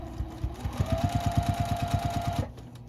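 A sewing machine stitches quilt binding along a raw edge, its needle thumping in a quick even rhythm with a rising motor whine, running for about two seconds before stopping.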